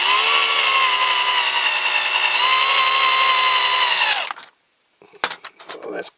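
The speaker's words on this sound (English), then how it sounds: "I don't want to drill more than I've got to." A power drill whines steadily and loudly as it bores into a die-cast Dinky Toys Jones Fleetmaster cantilever crane during restoration, then stops abruptly, followed by a pause and a few clicks and handling knocks.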